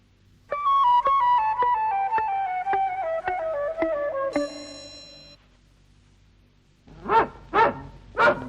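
Cartoon dog from a 1969 animated series: a long, steadily falling whimpering whine with pulsing beats, a quiet gap, then three short, loud barks close by.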